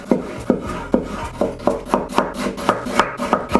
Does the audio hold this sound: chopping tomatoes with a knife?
yes